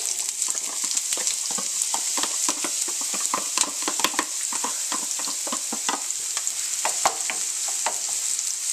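Red onions fry briskly in a pan, a loud continuous sizzle with rapid scraping and stirring clatter running throughout.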